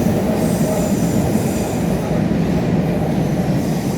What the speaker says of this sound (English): See a load of trains going past.